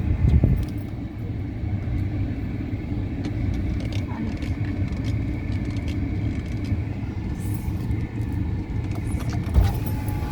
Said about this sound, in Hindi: गाड़ी आ गई।